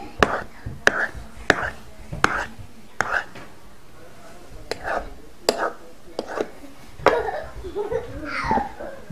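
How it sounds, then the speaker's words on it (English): The back of a butter knife scraping and chopping off excess dough around a Chicago-style deep-dish pizza pan, about a dozen sharp taps and scrapes in an uneven rhythm, close by, with soft talking in between. "use the back of your butter knife, and we're going to go ahead"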